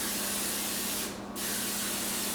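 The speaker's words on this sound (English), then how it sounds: "I just use the spray, I don't use the little cups" Cooking spray hisses into a muffin tin in a loud, continuous close-up burst, with a brief pause midway before the spray resumes.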